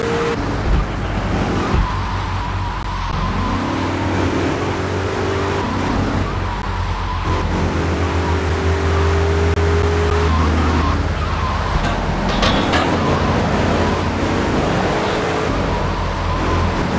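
In the video game GTA3, a car engine drones loud and close while driving, its pitch rising and falling through several gear shifts, with road noise and brief siren-like tones mixed in.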